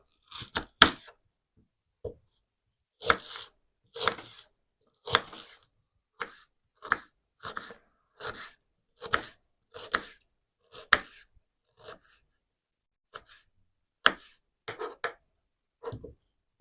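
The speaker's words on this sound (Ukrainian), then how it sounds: "Нарізаємо цибульку для нашої зажарочки." Onion gets chopped on a board for a fried onion dressing with a run of crisp, close knife chops. They come in uneven bursts with short pauses between them, and no one talks over them.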